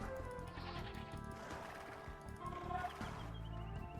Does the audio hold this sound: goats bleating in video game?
yes